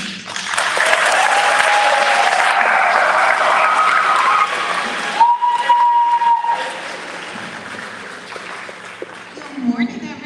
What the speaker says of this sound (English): let's give a round of applause for our principal, Dr. Skins.